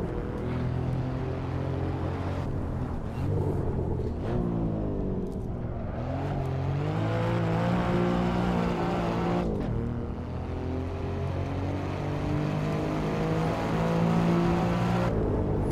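Alfa Romeo Quadrifoglio engine in the racing game Assetto Corsa, drifting through corners with a continuous loud, throaty drone whose pitch rises and dips as the revs change, heard alone without talk.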